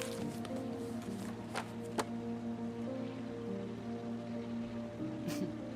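Steady rain falls in a video game scene on the road to Cambridge, a constant soft hiss with a low hum beneath and a few faint taps and knocks.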